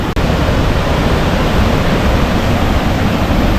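A small waterfall on an island pours in a dense, steady hiss that fills the whole stretch evenly, close and loud, with a single brief dip near the start and no talking.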